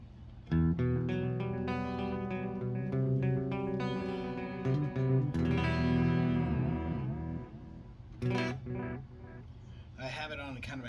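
Electric guitar played through an analog echo decay effect, a run of sustained, ringing notes whose repeats trail off softly behind each phrase, steady and close with no voices.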